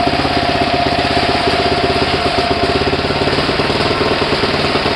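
A new Kentavr MK20-1/6 cultivator engine runs steadily at close range, a loud continuous chugging rattle with rapid regular firing pulses and no talk over it.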